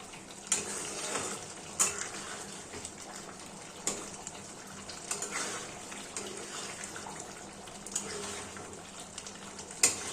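Kashmiri chicken kanti is stirred in a pot, giving a soft bubbling simmer with intermittent scraping clinks of a spoon against metal, fairly quiet and close.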